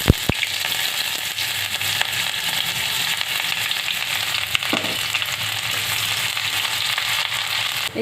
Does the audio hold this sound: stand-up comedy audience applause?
no